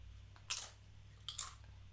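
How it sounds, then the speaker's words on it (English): Someone crunches food close to a sensitive microphone, two distinct quiet bites about a second apart over a low hum, with no talking. "Thank you for crunching on my stream."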